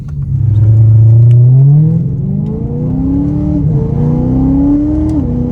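A tuned Chevrolet Lumina engine revs up close, a loud tonal roar climbing in pitch and then settling into a steadier drone with smaller rises and dips.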